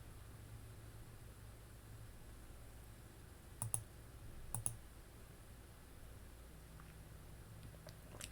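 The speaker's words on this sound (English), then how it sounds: "So I'm going to click in cell P7." Two sharp mouse clicks while selecting a cell in an Excel 2016 worksheet, each a quick double tick, close and faint over a steady low hiss.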